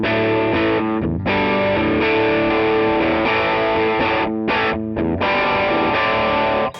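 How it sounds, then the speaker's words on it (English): Continuous distorted or overdriven electric guitar through a NUX Cerberus multi-effects pedal, loud and sustained with chords and short gaps where the playing pauses briefly, no voices. "distortion sound or overdrive sound"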